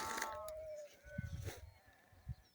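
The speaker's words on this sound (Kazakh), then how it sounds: "Жоғары жақта бір қой дауыс шығады айтып." Sheep bleat in an open hillside pasture, a few short wavering calls heard faintly from a distance, with someone talking over them.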